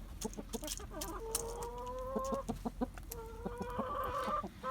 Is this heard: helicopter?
no